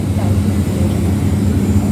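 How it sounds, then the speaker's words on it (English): Airplanes fly low over Charles de Gaulle airport in Paris, giving a loud, continuous low engine roar that holds steady from start to finish. "You can see the planes are flying low."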